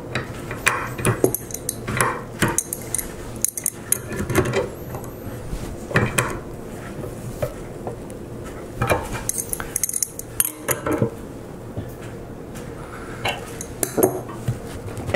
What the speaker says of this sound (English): put another one right back in. And clamp it right back down.